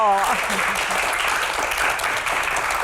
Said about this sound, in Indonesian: berikan tepuk tangan yang paling meriah untuk rekan-rekan mahasiswa yang ada di studio